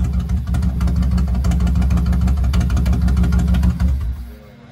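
A Harley-Davidson Road King motorcycle engine runs loud and close with a steady, lumpy idle pulse for about four seconds, then cuts out and falls quiet.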